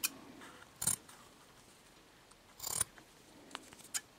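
Scissors cut out a paper template for an owl appliqué, with two distinct snipping bursts and a few lighter clicks and taps in a quiet room.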